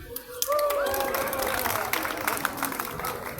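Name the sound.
crowd applause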